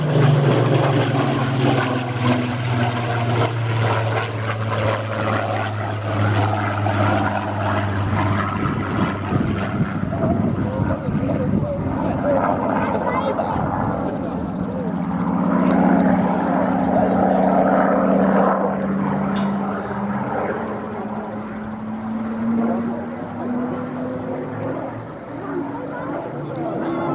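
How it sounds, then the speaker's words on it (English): Two tail-up propeller monoplanes at the Midlands Air Festival 2024 drone overhead, engine tones rising and shifting as they pass at moderate distance, with commentary over a loudspeaker and crowd noise throughout. "And we'll have the two tail-up monoplanes."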